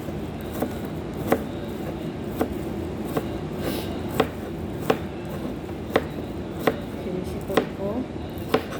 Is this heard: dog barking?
no